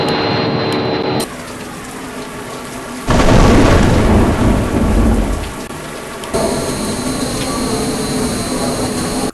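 Thunderstorm weather in a flight simulator game: steady loud rain with a deep rumbling thunder roll swelling in the middle, and a constant tonal engine-like hum running throughout.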